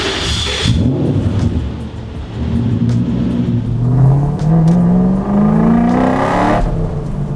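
A drift truck running on freshly rebalanced wheels, its engine note rising steadily in pitch as it accelerates, loud and continuous with road and wind noise, then dropping off near the end.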